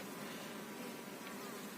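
Bees buzzing at an apiary around a hive on a mild, windy day, forming a dense, steady drone that stays constant throughout without any talk.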